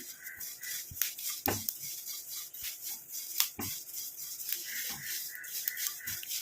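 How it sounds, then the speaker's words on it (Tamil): Curry leaves frying in a pan until crispy, a continuous crackling sizzle with scattered sharp pops and occasional scraping clinks of a utensil, heard without speech. "நல்லா ஃப்ரை ஆகிட்டுருக்கு கருவேப்பிலையெல்லாம் நல்லா சேஞ்ச் ஆகிடுச்சு நல்லா கிறிஸ்பியாக வருது"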